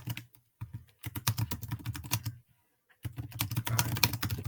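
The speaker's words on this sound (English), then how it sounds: "So I'm going to start typing." Rapid keystrokes on a computer keyboard come in two bursts separated by a short pause, close and crisp, with no talking.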